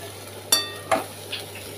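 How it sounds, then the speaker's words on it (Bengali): A spatula stirring taro stolons and prawns frying in a pan, two sharp scraping clanks and a softer third over a low sizzle. "এই যে এবার লতিটা মিশিয়ে দিচ্ছি, দিয়ে ভালো করে নেড়ে নেবো।"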